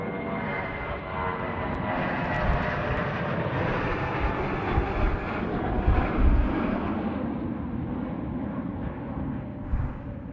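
An airliner taking off at Sydney Airport on runway 34 left, a loud, sustained jet engine roar that swells and rumbles steadily, heard from a spotting position with no voices.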